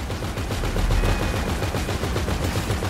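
Video game gunfire aimed at the player: rapid, loud bursts of automatic shots crackle in quick succession, close and dense, with no talk over them.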